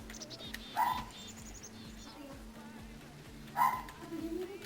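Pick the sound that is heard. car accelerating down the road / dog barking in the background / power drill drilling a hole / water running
dog barking in the background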